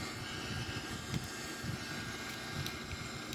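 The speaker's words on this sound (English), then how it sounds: "we rotate, and V2, and here we take off" A simulated Airbus A340 takes off in a flight simulator game, giving a steady, loud jet-engine roar with a low rumble underneath that holds constant throughout.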